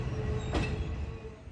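Train cars roll along the outer tracks of a central station, giving a steady, close rumble of wheels on rails with a brief bright screech midway.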